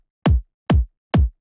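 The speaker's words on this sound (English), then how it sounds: "a punchy kick." A punchy future house kick drum sample hits three times at an even pace, each thump loud and close, with a sharp attack that drops quickly into a deep, short boom.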